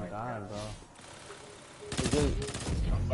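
Burst-fire gunshots from a video game gun crackle loudly in rapid clusters during the second half, after a stretch of someone talking over quieter game sounds.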